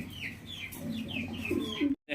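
Fancy pigeons on a farm coo and call in a series of soft, repeated notes, with other fowl faintly clucking nearby, before the sound cuts out abruptly.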